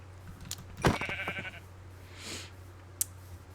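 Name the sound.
sheep bleating in the video game Minecraft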